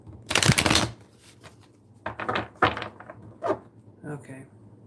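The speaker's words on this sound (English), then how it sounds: "Okay, one more shuffle here." Tarot cards are shuffled up close: one long riffling burst, then several shorter quick shuffles with brief pauses between them.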